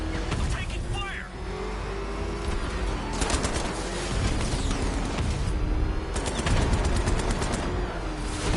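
Rapid gunfire in the video game Batman: Arkham Knight, with bursts of sharp automatic shots over a dense, loud backdrop of engine rumble and game noise, and voices speaking throughout.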